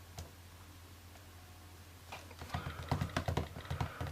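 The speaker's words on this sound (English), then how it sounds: "And now if I go to type something, if I write an email for instance" Typing on the keyboard of an Uniq Essensual keyboard case for an iPad mini, starting after a quiet pause as a quick, soft run of close key clicks.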